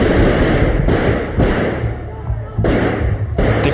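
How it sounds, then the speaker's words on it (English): Heavy, booming thuds of gunfire break out in a chaotic burst during Spain's failed military coup, with loud repeated blasts over a dense background of noise and voices. "Gunfire."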